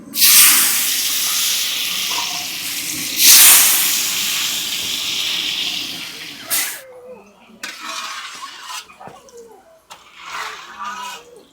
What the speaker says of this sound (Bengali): এবার ভেজে নেব ভিজিয়ে রাখা কিশমিশ আর